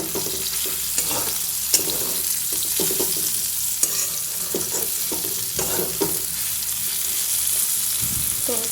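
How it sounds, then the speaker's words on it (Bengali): Bitter gourd sizzles in hot oil in a home kitchen pan, a continuous close crackle with occasional stirring clicks and scrapes throughout and no voices. "এখানে উচ্ছে ভাজা করছি"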